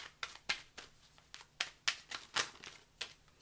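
Tarot cards being shuffled by hand, a series of crisp, close riffling and slapping bursts in an uneven rhythm, about a dozen across a few seconds, with no talking.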